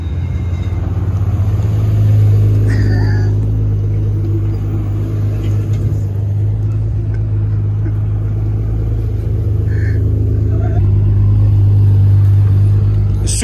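Toyota Supras arrive in a continuous, loud low engine rumble that stays close and steady, with brief higher noises over the top and no talk.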